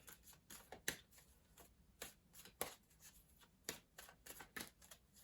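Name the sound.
shuffling tarot cards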